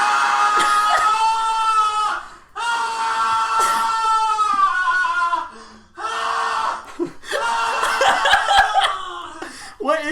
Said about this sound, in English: Man screaming. Sound effect.